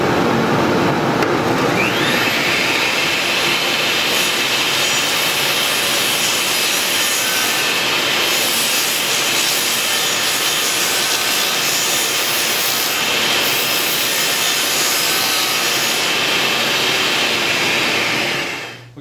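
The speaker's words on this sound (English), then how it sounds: "But for now, we'll go ahead and cut up the plywood." A power saw cuts through plywood backing for a bathroom mirror, a loud continuous whirring rasp held steady for many seconds before winding down at the end, close by with no talk.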